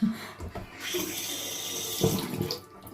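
Tap water runs into a sink while a Foreo Luna 4 facial cleansing device is rinsed, a close, steady splashing hiss with brief bumps and gurgles.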